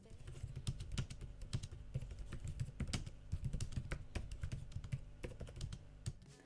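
Typing on the keyboard of an Acer Nitro 5 gaming laptop, a steady run of quick, fairly quiet key clicks with brief pauses, heard close and alone.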